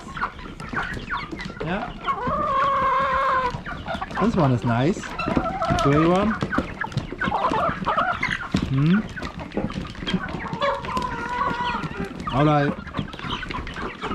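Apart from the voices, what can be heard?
chickens clucking on a farm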